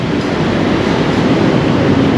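An elevated electric train passes near Sala Daeng station, making a loud, continuous broadband rumble and rush that holds steady throughout, with no voices.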